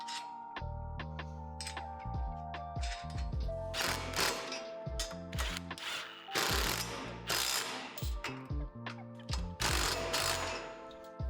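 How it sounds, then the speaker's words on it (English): Nuts are ratcheted down onto U-bolts on the backboard bracket of a Lifetime 44-inch portable basketball system, making repeated close mechanical clicking and metallic clinks over low, droning tones. "Then secure these bolts with the nuts."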